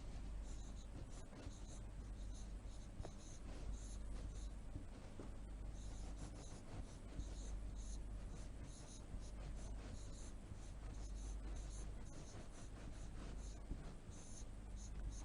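Chalk or a marker writes on a board in a classroom lesson, with faint continuous scratching and tapping strokes under a teacher's speech.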